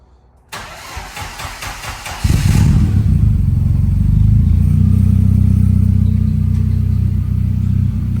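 A Ford Fiesta RS Cosworth 4WD that has sat outdoors for a couple of days cranks briefly, then catches and settles into a loud, steady, close-up idle with no talking.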